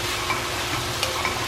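Spinach, kale and chopped spring onions fry in a pan, making a steady, close sizzle with a soft stirring scrape, with no voices over it.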